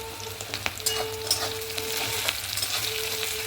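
Onions frying with a little salt in a pan, a continuous close sizzle with crackling pops and occasional stirring scrapes, no talk.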